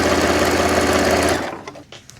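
A sewing machine stitching a quilted keychain wallet, running in a fast steady whir for over a second before slowing and stopping, leaving a few light clicks, close and without talk.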